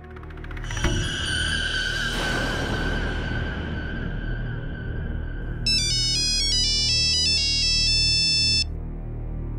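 An electronic ringtone for an incoming call from a phone in a TV drama scene plays a bright, repeating melodic pattern of beeps after a short dramatic musical sting, loud and clear.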